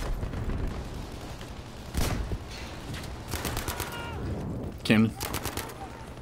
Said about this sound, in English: There's a tank shooting us.